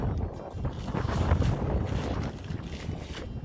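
Strong wind roars and buffets the microphone in a steady, rushing blast with no voices.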